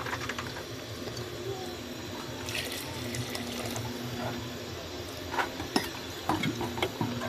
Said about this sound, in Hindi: तो अभी इसमें मैं पानी ऐड करूँगी।